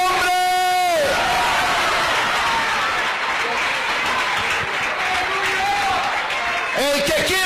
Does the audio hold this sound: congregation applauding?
yes